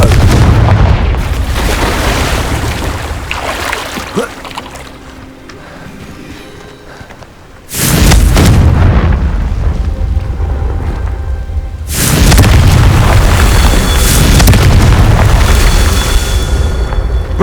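Explosive Confringo spell blasts in the video game Hogwarts Legacy, loud booming bursts that surge in around eight and twelve seconds over a steady rumbling game soundscape, with no talk.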